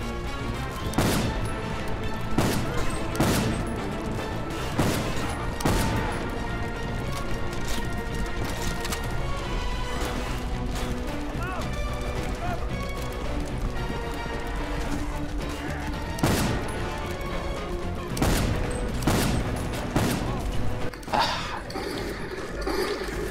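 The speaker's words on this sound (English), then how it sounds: "All of our allies are just shooting at the ground, too" Allies fire guns into the ground during a co-op run of the shooter Inversion: repeated sharp gunshots and bursts crack over a dense, steady bed of game music and combat noise, with several louder blasts standing out.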